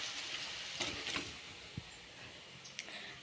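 Onion pakoda frying in hot oil makes a faint, steady hiss with a few small pops and clicks, quiet and without talk.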